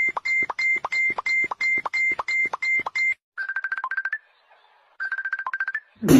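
Phone ringtones and notification alerts sounding on Eid: a repeated electronic ring pattern of about ten sharp pulses, then two shorter bursts of trilled beeping separated by a pause, ending with a brief louder rustle.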